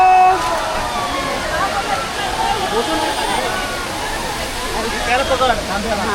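Malshej waterfall rushes in a steady broadband roar, with water splashing close by while several people talk and call out over it.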